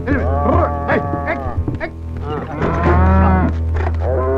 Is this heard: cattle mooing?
yes